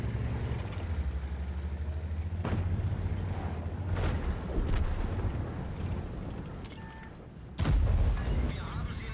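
Heavy tank cannon fire in World of Tanks, several booming shots scattered through a rumbling engine drone, with one loud, sharp blast near the end, while someone talks throughout.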